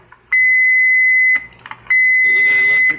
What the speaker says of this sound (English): We added a Roger beep.